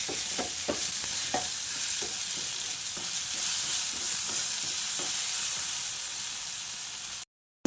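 Tomato stir-fried with a spice tempering in a pan gives a continuous bright sizzle, with soft utensil taps and stirring scrapes early on, ending in a brief cut to silence.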